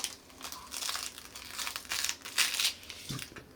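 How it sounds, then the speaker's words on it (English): Protective plastic film crinkles and tears as it is peeled off new Logitech S-150 computer speakers, a close, continuous crackling in several loud bursts with a few quiet gaps. "Alright, let's peel the plastic off."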